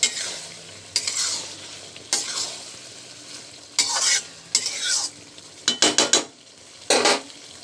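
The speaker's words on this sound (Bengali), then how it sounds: "আলুটা দিয়ে দিলাম, আলুটা দিয়ে ভালো করে নাড়াচাড়া করে নিলাম" Potatoes stirred into frying tripe in a pan, a low sizzle underneath repeated scraping strokes of a spatula, about eight bursts of varied length with a quick cluster near the end.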